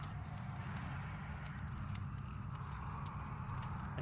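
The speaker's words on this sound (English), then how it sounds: "I hear footsteps everywhere." Footsteps in the video game Dead Space 2: faint, irregular clopping steps under a dense, murky low rumble of ambient noise, with no voices.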